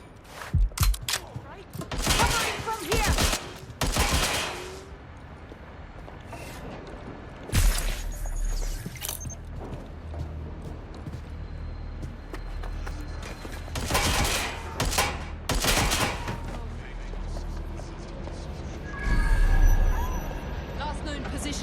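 Gunfire in Watch Dogs Legion: scattered loud bursts of shots and clattering impacts break out at intervals over a low ambient rumble, with voices talking in between.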